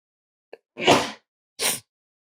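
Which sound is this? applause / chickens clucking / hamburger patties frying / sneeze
sneeze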